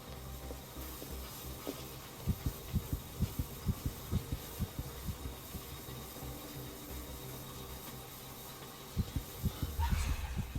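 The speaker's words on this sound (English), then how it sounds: "Oh, weird, I heard a heartbeat." A heartbeat in the horror video game Call of Cthulhu (2018) thumps as a steady run of low, muffled double beats over a quiet humming ambience, fading out mid-clip and returning faintly near the end.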